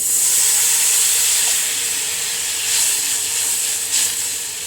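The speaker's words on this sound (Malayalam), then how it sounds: "ഇതിനകത്തേക്ക് ഞാൻ കുറച്ച് വെള്ളം ഒഴിക്കുകയാണേ" Water poured into a hot pan with tomatoes for an egg curry gives a loud, steady steaming hiss that lasts throughout, swelling briefly a couple of times.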